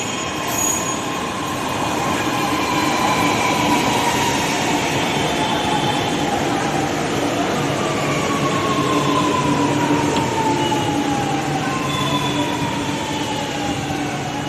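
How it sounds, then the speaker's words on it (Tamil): A metro train rumbles steadily through Vadapalani metro station in Chennai, with drawn-out wheel squeals rising and falling over the continuous roar. "நம்ம இன்னைக்கு வடபாண்டி மெட்ரோ ரயில்வே ஸ்டேஷனில் தான் இருக்கோம்"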